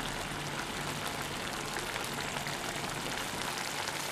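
Olan, a Kerala coconut-milk curry, coming to a boil in a pot on the stove, giving a steady, dense bubbling and hissing wash like light rain that stays even and close throughout, with no talking.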